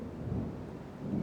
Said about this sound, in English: We got some thunderstorms coming through.